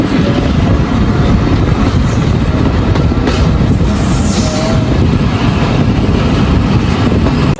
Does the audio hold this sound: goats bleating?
no